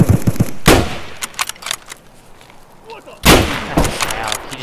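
Heavy, booming Mosin rifle shots in Escape From Tarkov, a cluster of sharp reports near the start and another loud blast later, with scattered distant pops between, close and forceful.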